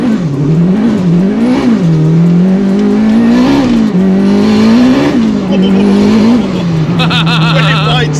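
A Toyota MR2 with a turbocharged K20 engine accelerates hard in first gear, its loud, close engine note rising and falling in repeated surges, with a brief flutter near the end.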